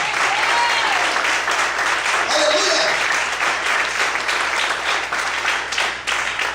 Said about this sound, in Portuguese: Aplaude o Senhor bem forte